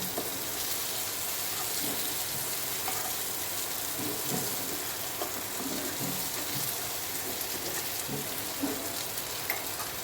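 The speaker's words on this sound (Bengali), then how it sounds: "ইলিশ মাছটা ভাজিয়ে নিচ্ছি আমি অফ ক্যামেরায়" Hilsa fish fries in hot oil in a pan, giving a steady, dense sizzle and crackle that holds evenly throughout, close and moderately loud, with no voices.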